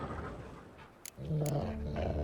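Dog growling in The Witcher 3 video game, a low, rumbling snarl that swells near the end of the short clip after a quieter stretch.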